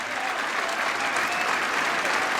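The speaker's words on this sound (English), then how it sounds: "Listen to the crowd." A cricket crowd at an England v West Indies Test match applauds in sustained, dense clapping that fills the ground evenly for a few seconds, with no voices standing out.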